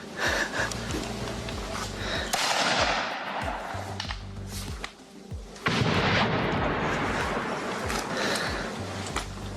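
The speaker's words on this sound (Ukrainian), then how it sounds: "шмаляє з гранатомету просто по приколу по житловим кварталам і будівлям в Донецьку" Grenade launcher fire hits residential buildings in Donetsk, several heavy booming blasts at irregular intervals with rumbling echoes, against a noisy outdoor background.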